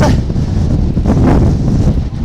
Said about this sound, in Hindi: बहुत तेज हवाएं चल रही हैं